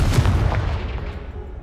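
Blasting-spell explosion in the video game Hogwarts Legacy, cast to clear a pile of debris blocking a stairwell: a loud, booming blast with heavy low rumble that fades over about a second and a half, with no voices.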